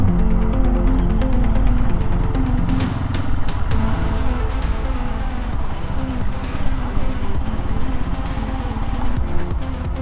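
An adventure motorcycle ridden along a trail past garden land in Bangladesh produces a continuous close engine throb, loud and steady, with a rough low rumble throughout.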